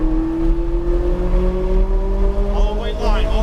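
A Ferrari 458 Italia accelerates on a race track, its engine a loud, steady tone that climbs slowly in pitch, heard from inside the car under rushing wind noise.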